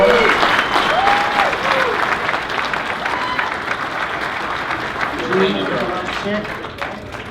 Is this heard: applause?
yes